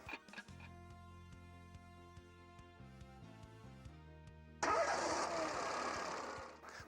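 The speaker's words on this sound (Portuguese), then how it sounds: "quando ligar a chave, espere 15 segundos antes de dar partida no motor" A Peugeot car engine starts: a few seconds of steady electrical whine and relay clicks, then the engine catches with a loud burst and settles into a rough, near idle, no talking.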